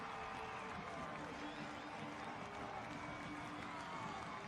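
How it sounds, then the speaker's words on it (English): Stadium crowd at a USL Championship soccer match cheers after a late goal, a dense, steady roar of fans filling the whole stretch, distant and continuous. "And this crowd on its feet"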